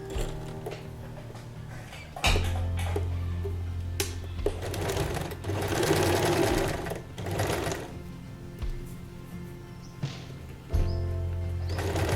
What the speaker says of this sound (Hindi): इन दोनों को एकदम पास से करीब से पकड़िए और यहाँ तक थोड़ी सी सिलाई लगा लीजिए